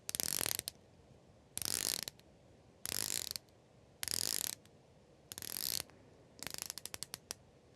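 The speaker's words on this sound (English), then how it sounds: "you have a really nice, clean, crispy bezel action" Rotating bezel of a Christopher Ward C65 Dartmouth watch turned in six bursts of rapid, crisp ratcheting clicks, close and distinct, the last burst breaking into separate clicks, with no talk.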